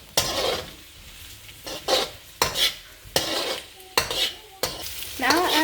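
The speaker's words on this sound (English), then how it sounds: "Now stir it well again." Onions and red and green capsicum are stirred in a frying pan for veg Manchurian, a spoon scraping and clinking against the pan in repeated bursts over a low sizzle, with no one talking.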